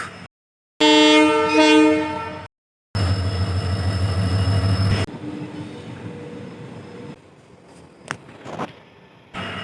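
A train passes with a loud blast of its horn, followed by a heavy roar of rolling wagons that fades into quieter rumbling and a few sharp clanks, with abrupt cuts between segments.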